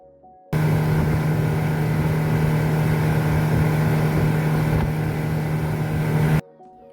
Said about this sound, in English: listening to the soothing sounds of the boat motor